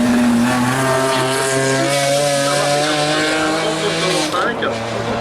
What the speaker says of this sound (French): Et là, c'est Vincent Truffat qui s'élance avec une autre BMW 125